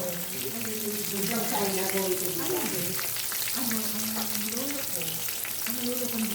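Tawilis fish sizzle and crackle steadily in hot frying oil, a constant spitting hiss close by, while voices talk over it throughout.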